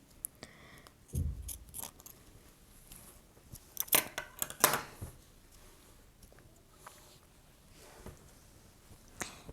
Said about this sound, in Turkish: Hemen hızlıca topuk kısmını kesiyoruz